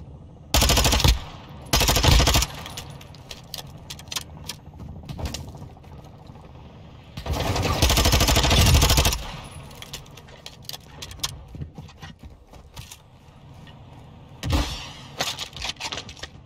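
Gunfire in the video game Call of Duty: Warzone: several loud bursts of automatic fire lasting a second or two each, with scattered sharp shots and mechanical clicks in between, and no talk.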